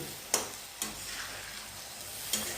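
A dish seasoned with turmeric and salt is stirred in a pan: a few faint, sparse scraping strokes over a quiet, low background hiss.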